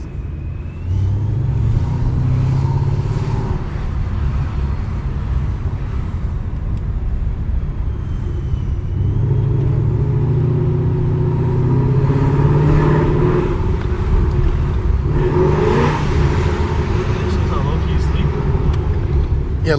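A 700 HP Ford Mustang GT engine with its exhaust closed rumbles with a deep, steady drone, swelling in a few revs, while people talk over it.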